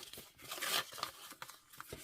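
New paper budget envelopes are handled and folded up close, making quiet crinkles, a brief papery rustle and small creasing snaps in an irregular rhythm, with no voices heard.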